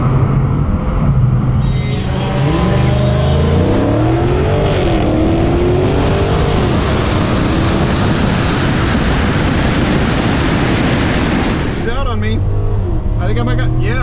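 Drag race cars launch hard, including a nitrous C3 Corvette, with a loud engine roar rising through several revving sweeps for about ten seconds before dropping back to idle, with voices talking over it.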